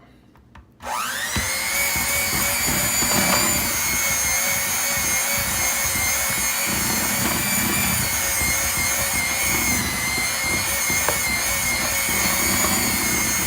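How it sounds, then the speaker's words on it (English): An electric hand mixer starts abruptly and whips purple potatoes, its high whine holding steady and close with slight grinding fluctuations as the beaters work through the mash, and no talk. "I prefer the hand mixer, or obviously a KitchenAid mixer"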